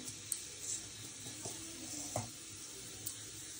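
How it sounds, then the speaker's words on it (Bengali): Cumin and nigella seeds sizzle in hot oil as a faint, steady hiss close by, with a few soft clinks and taps from stirring scattered through it. "ফোড়নেতে আমি সামান্য জিরে আর কালো জিরে দিয়ে দিলাম"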